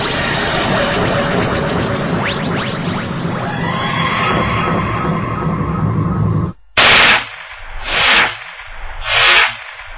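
Gunfire in a Doctor Who scene: sustained rapid automatic fire under a loud din, then an abrupt cut to three separate bright bursts.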